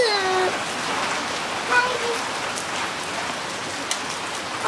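Steady rain pours off a roof and down through gutters during a hailstorm in Sheki, a continuous close wash of splashing water with a few brief whistling tones layered over it.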